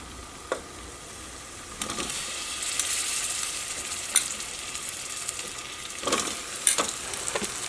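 Potato pieces fry in masala for a potato curry, a steady sizzle broken by occasional scraping knocks of a spoon against the pan, fairly close and with no talking.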